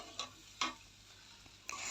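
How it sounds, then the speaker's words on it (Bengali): Pulao rice stir-fried in a pan for a festive basanti pulao, heard as a quiet dry rustle with three sharp spatula scrapes spaced across two seconds, close and clear without any voices. "এখানে আমি ভালো করে কষিয়ে নিছি চাউলটা, অনেক সুন্দর করে কষিয়ে নিতে হবে, ভাজা ভাজা করে নিতে হবে।"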